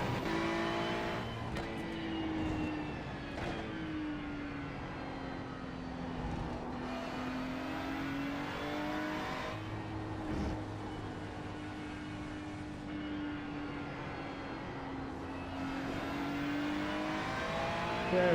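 Ferrari race car engine on practice laps at Charlotte, a continuous engine drone with rising and falling pitch as it accelerates and lifts through the lap, heard steadily at moderate distance without talk.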